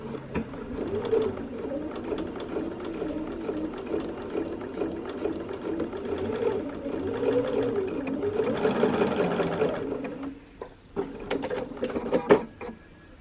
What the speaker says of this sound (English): When I'm sewing these scrappy pieces, I'm going to set my stitch length a bit shorter